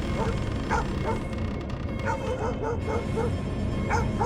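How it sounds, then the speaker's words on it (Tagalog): A German Shepherd barks and yips repeatedly in short bursts, fairly close, over a constant background rumble. "mag-iingay pala to si, ano, si Buggy. Buggy pangalan ng aso eh"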